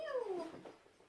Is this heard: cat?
yes